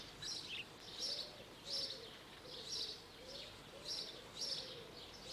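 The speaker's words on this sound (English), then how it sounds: "House sparrows are gregarious and very noisy, both by day and at their night roosts." House sparrows chirp in quiet repeated bursts about once a second, faint and high-pitched over a low background hum.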